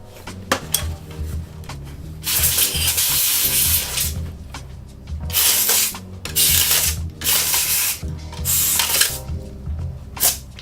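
Compressed air duster sprayed to clean dust from a PS3 Super Slim console: several loud, close hissing bursts of a few seconds each, with short pauses and light handling clatter between them and no talking.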